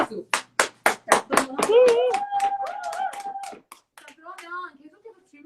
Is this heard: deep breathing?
no